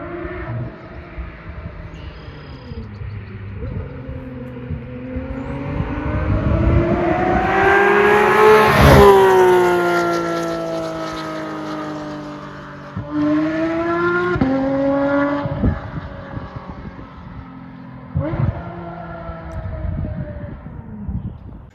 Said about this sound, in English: I have the Dundon exhaust on my car. It's street headers and ultralight titanium muffler